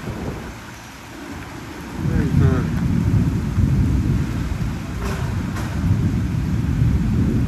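Rain and a thunderstorm roll on in a continuous broad rumble and hiss that swells louder after a quieter start, with faint brief sounds over the top.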